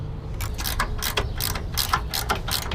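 A ratchet wrench loosens 16 mm body mount bolts during an aluminum side step install, giving a fast, steady run of clicking pawl strokes, close and fairly loud with no talking.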